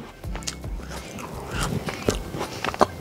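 Crisp crunching bites and chewing of a hard, crunchy orange-flavoured cookie up close, a few sharp cracks scattered among softer chewing sounds.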